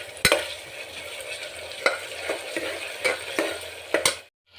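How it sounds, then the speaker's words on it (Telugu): Onions and curry leaves fry in a pan with a steady close sizzle, broken by several sharp scraping stirs at irregular intervals before cutting off abruptly at the end. "ఇవైతే బ్రౌన్ కలర్ వచ్చేంత వరకు వేయించుకుందాం."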